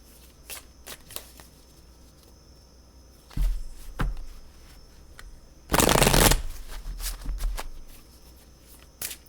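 Soft riffling and clicking of tarot cards in short bursts, with one loud, close shuffle in the middle and quieter taps around it.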